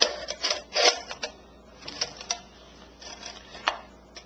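Knife blade scraping and slicing through a thin aluminum soft drink can, a series of short rasping cuts and scratches, close and fairly quiet, with no talking.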